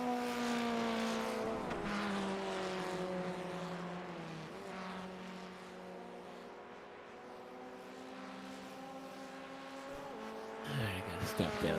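Open-wheel race car engine in a racing sim at Summit Point, a loud buzzing whine with stepped pitch drops as it downshifts through gears, holding a lower tone before revving up again near the end.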